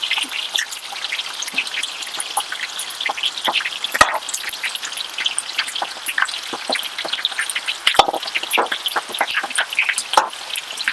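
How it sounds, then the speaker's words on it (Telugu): Chicken pieces for an Arabian chicken mujboos biryani deep fry in hot oil, giving a loud, dense, continuous sizzle and crackle with scattered pops that lasts throughout, with no talking. "ఇవి ఆయిల్ లో డీప్ ఫ్రై చేసుకోవాలటండి"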